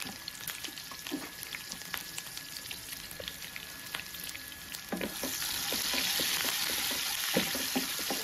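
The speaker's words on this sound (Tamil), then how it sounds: "2 பச்சை மிளகாய், 2 கொத்து கருவேப்பிலை போட்டு நம்ம தாளிச்சிடலாம்" Green chillies and curry leaves sizzle and crackle in hot oil for a tempering, with a steady frying hiss that swells louder partway through and scattered sharp pops and stirring clicks, close and without talk.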